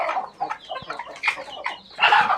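Desi hens cluck in a coop on a small farm, a rapid series of close, loud clucks and short calls with a sharper burst near the end, no talk.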